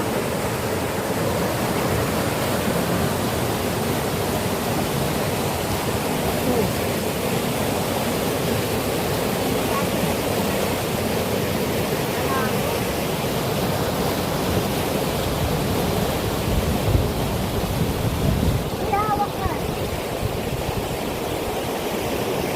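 Water flows steadily at a spring in Bicol, a continuous broadband rush with no pauses, moderately loud and close throughout, with no talking over it.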